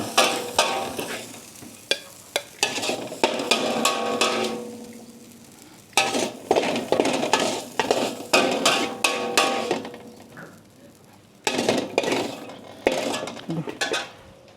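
Egg fried rice being stirred and tossed in a hot pan, with repeated scraping and clinking of a utensil against metal over a steady sizzle, in bursts separated by short pauses.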